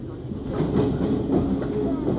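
A 115 series electric train rumbles and clatters at low pitch, departing Nagaoka Station and gradually building as it gets underway, with a faint voice mixed in.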